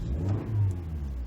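Engine of a Lexus UX 200 F Sport revving in sport mode, a low throaty rise and fall in two swells, close and steady with no voices.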